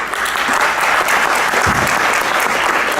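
Loud, dense clapping from an audience right after a demo of the Wasabi app, continuous and even throughout with a brief low thump partway through.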